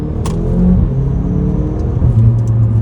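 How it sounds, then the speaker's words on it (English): A Mercedes-AMG A45 with dual-clutch gearbox accelerating hard in Sports Plus mode, a loud, steady, rising engine drone heard from inside the cabin, continuous with no talking. "My first drive in the AMG A45."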